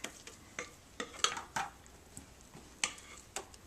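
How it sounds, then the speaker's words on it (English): Cake batter divided between two aluminum cake pans for a white yogurt pudding cake, heard as a series of separate light metallic taps, scrapes and clinks spaced out at an uneven pace, close and fairly quiet, with no talking. "So we're going to divide this between 2 cake pans"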